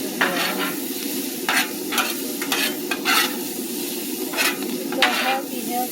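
Hibachi vegetables stir-fried on a hot surface, a loud, constant sizzle with steamy hiss overlaid by repeated scraping and tossing strokes of a utensil, close and busy throughout.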